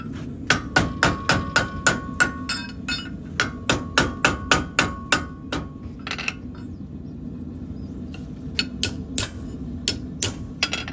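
A farrier's hammer rings on a horseshoe against an anvil in quick, sharp metallic strikes, loud and close, in bursts with brief pauses.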